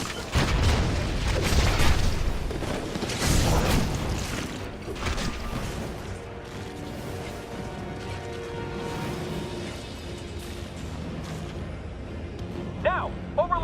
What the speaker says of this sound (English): RPG, ready to fire!